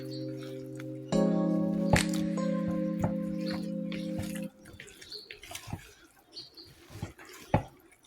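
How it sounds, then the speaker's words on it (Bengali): Fish being mixed by hand with ground ginger spice paste, with wet, soft squishing and dripping sounds. A steady tonal hum runs during the first few seconds, then the squelching continues on its own. "এখন মাছটা আমি সুন্দর করে এরকম মাখিয়ে নিব।"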